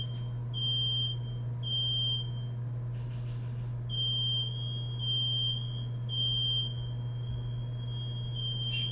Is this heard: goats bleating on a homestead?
no